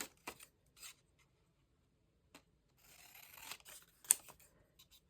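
Scissors cutting paper for a junk journal page, quiet close snips and a short drawn-out cutting stroke with pauses between, faint in a quiet room.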